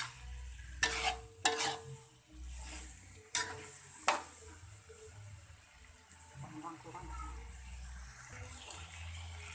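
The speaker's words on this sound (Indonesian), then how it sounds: "Kita masak sampai bumbu benar-benar meresap di kikil sapinya." Beef tendon is stir-fried in a thick spice paste in a pan, giving a low simmering sizzle broken by several sharp scrapes and clinks of a spatula against metal.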